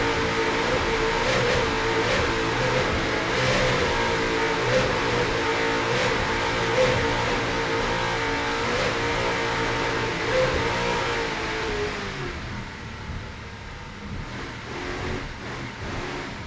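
Onboard a race car in an ice racing event, the engine revs hard and continuously, loud and close, then settles to a lower drone toward the end.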